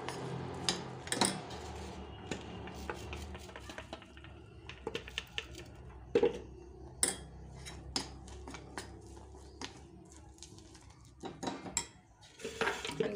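Sesame, peanut and jaggery chikki mixture being stirred in a pan off the heat, with irregular close metallic scrapes and clinks of a spoon against the pan, some sharp, over a low background hum.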